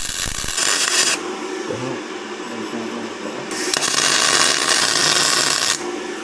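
An ARCCAPTAIN spool gun welding thick aluminum, a loud close crackling, buzzing hiss in two long bursts separated by a brief pause, with no talking.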